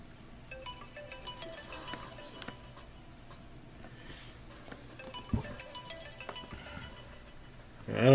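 An iOS 7 phone ringtone plays quietly, a tinkling melodic pattern of tones with ticking sounds, ending in a louder burst.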